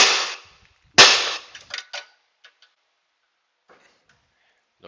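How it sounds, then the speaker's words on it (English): A big sledgehammer hits the lower ball joint of a 1998 Dodge Ram 1500. Two loud, sharp metallic blows land about a second apart, followed by a few lighter taps and faint clinks in a quiet space. "Grabbing the big sledgehammer,"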